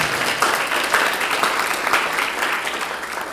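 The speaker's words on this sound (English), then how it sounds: "let's give a round of applause for that opening" Meeting audience at a commemorative gathering gives a round of applause, a steady, moderately loud patter of many hands clapping with slight swells.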